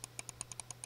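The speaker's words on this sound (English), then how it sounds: "This time I'm gonna hold the mouse close to my Turtle Beach. So you can hear the clicking." Computer mouse clicking held near a headset, about eight quick, faint, sharp clicks in under a second over a low steady hum.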